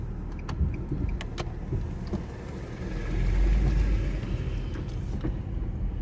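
A wide truck passes on a road beside a river swimming spot, its low engine rumble swelling to a loud peak around the middle before easing off.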